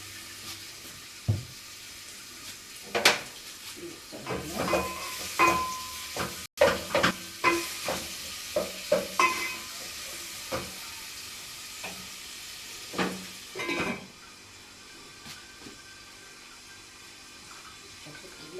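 Potatoes and carrots frying in a pan for a cabbage dish: steady soft sizzle under repeated scraping and stirring knocks, with splashy bursts in the first half, close by, then quieter toward the end, no voices.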